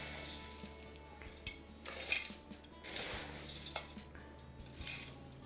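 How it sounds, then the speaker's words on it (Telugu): A mixer grinder jar is handled in a home kitchen during laddu preparation, giving a few light clinks and knocks of metal and glass against hard surfaces, spread through a quiet background with no talking. "మిక్సీ జార్ తీసుకొని"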